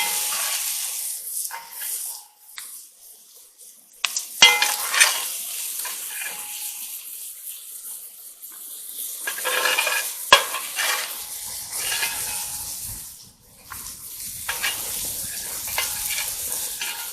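Food sizzling in bacon grease in a Dutch oven at a camp breakfast, stirred with scraping utensil strokes and intermittent crackling, fairly close with quiet pauses between bursts.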